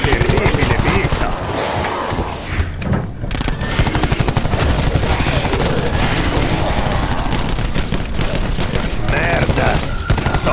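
Sustained automatic gunfire fills a Call of Duty Black Ops zombies match, loud and continuous rapid bursts with a voice shouting briefly amid the shooting.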